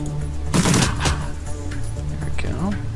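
Shotgun fire in the video game Shadowrun Dragonfall: a loud blast followed by a second shot shortly after, with faint game sounds in the quiet that follows.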